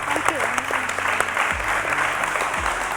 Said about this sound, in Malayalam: നല്ലൊരു കയ്യടി നമുക്ക്.